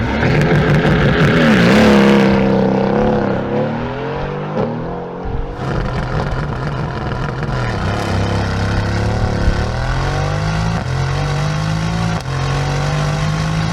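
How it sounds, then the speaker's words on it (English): A loud, close 4-liter twin-turbo V8 Mercedes-AMG car engine revs hard, rising and falling through several pulls with a throaty rumble, continuous for the whole stretch. "have a 4-liter twin-turbo V8, and it sounds like this"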